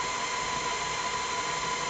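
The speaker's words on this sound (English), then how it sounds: "I apologize if it is a little bit noisy, but the drill ain't actually that bad." Power drill with a step bit boring a fill port in a pump sleeve build, giving a steady, loud whirring grind that holds without a break.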